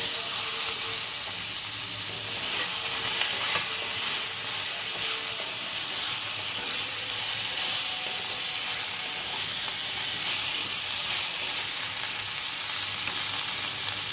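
Vegetables for Bengali shukto sauté in a pan with a steady, loud hissing sizzle, broad and continuous throughout, with occasional faint stirring scrapes beneath.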